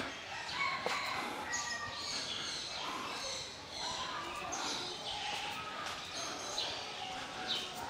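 A flock of birds chirps and calls at a zoo, overlapping tweets and calls scattered through the scene, with a person talking nearby over the chatter.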